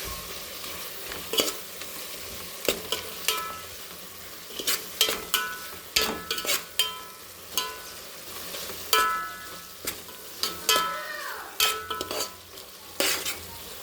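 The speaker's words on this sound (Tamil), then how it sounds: "தனி மிளகாய் தூள் கரெக்டாக மிக்ஸ் பண்ணிக்கலாம்" Biryani masala and chilli powder frying in a pan: a soft sizzle underlies repeated scraping strokes of a spoon against the metal, coming in quick irregular bursts with brief pauses between them, close and fairly loud.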